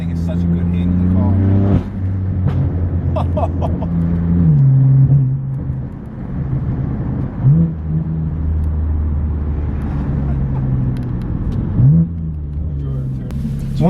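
A used BMW M4 F82 drives on the road with a steady engine drone, and the revs rise and fall several times as it shifts and accelerates, while someone talks throughout from inside the car.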